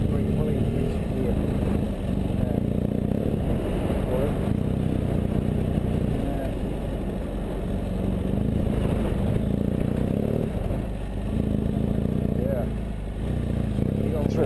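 A BMW F800 GS motorcycle rides over slippery wet grass and mud, its engine droning steadily and close with small surges as the clutch is worked, while a rider talks over it.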